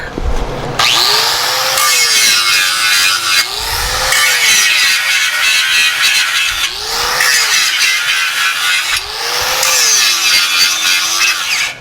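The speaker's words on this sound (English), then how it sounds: "I'll just clean that weld up a little bit with the flap disc." Flap disc grinder cleaning up a steel weld on a screen press table, a loud close whining grind in four long passes separated by short pauses, with the motor pitch rising and falling.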